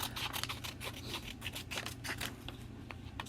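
Paper being cut with scissors, a quick run of repeated crisp snips and rustles, close and fairly quiet, with no talking.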